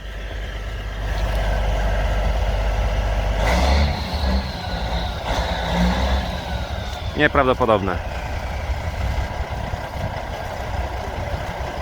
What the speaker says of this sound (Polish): to jest, słuchajcie, największy autobus świata